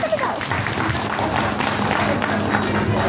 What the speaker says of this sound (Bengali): একটিবার জোরে হাততালি